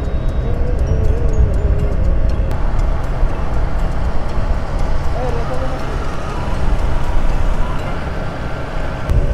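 Heard from inside a moving vehicle, a jammed Bangladeshi road gives a constant engine and traffic drone, loud and close, while someone talks over it.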